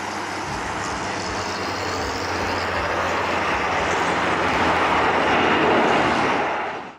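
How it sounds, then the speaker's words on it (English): An overloaded light airplane strains to lift off a runway as it runs out, its engine a broad, steady roar that swells slowly toward the end before cutting off, no talk. "the pilot barely lifts the overloaded plane off the ground as the runway comes to an"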